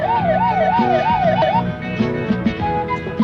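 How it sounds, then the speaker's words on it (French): A loud emergency siren wails up and down in rapid cycles for about a second and a half, then cuts off and leaves lower rumbling noise with a few scattered knocks. "Tu fais taire cette sirène"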